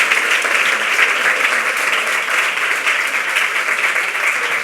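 Steady, loud audience applause as a professor walks to the stage at a presentation, a dense continuous wash of clapping from a large crowd with no voices.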